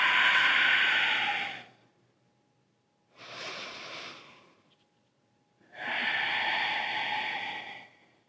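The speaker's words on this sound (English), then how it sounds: "All you're worried about is moving the air into your lungs, feeling your belly jut out," Slow, deep breaths during a yoga breathing exercise, three long airy hisses separated by short pauses, close and fairly loud, with no talk.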